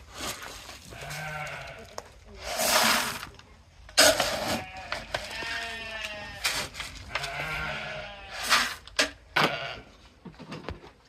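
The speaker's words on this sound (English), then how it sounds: "These sheep are calling for us." Several sheep bleat loudly and repeatedly, overlapping calls close by with short pauses between them.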